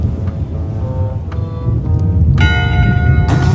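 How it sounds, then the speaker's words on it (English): A ship's bell on a pirate ship's top deck in the adventure game Return to Monkey Island strikes once, ringing out with a sustained metallic tone over a steady wash of sea and ambient game sound. "One bell, voting hour."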